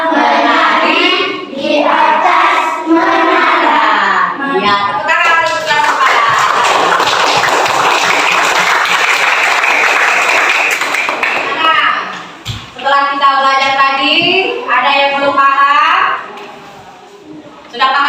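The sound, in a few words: applause from a class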